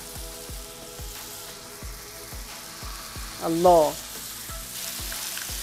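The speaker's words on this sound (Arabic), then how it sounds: "هنشيل قطع حلوه كده وننزل بقى في الجريل ونسمع احلى تش" Homemade burger patties sizzle steadily on a hot grill pan, a continuous crackling fry with a voice speaking briefly partway through.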